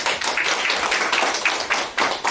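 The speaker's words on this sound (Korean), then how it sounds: "여러분, 이 젊은 친구에게 여러분 박수 한번 부탁을 드리겠습니다" Audience clapping at a forum on disability arts, honouring a young participant. The claps are close and fairly loud, in an uneven rhythm that suggests a modest crowd.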